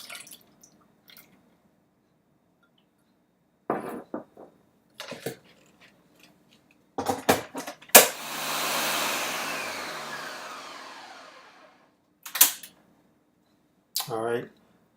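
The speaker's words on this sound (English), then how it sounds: "I use a blender." A kitchen blender purees quinoa pudding with milk, sugar and protein. After a few brief clicks and knocks it roars into a loud whirring burst of a few seconds that gradually winds down, followed by more short handling sounds.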